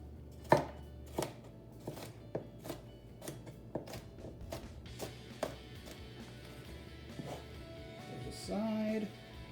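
A knife chopping food into strips on a cutting board, a dozen or so crisp close knocks at an uneven steady pace, with a brief rustle near the end, no talking.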